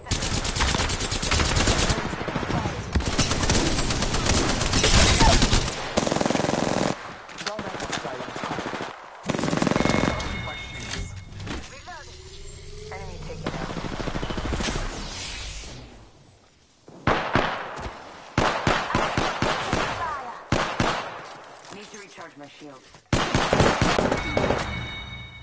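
Rapid automatic gunfire bursts in Apex Legends, loud and close, coming in several long strafing volleys separated by short lulls, with sharper isolated shots and brief quieter gaps toward the end.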